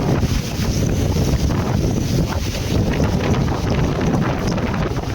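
Strong, gusty typhoon wind roars without pause, battering the microphone with a loud, rumbling rush that never lets up, in Anda, Pangasinan, during Typhoon Uwan.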